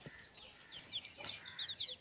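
Kadaknath chicks bought at a market give faint, high, short peeping chirps in an irregular scatter, quiet against soft background noise, with no talk.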